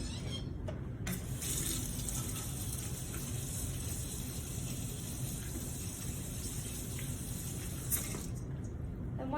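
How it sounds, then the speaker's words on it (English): Running tap water flows steadily into a sink during a final hand wash after cleaning a dental unit, a continuous near hiss with faint handling sounds. "And perform a final hand wash."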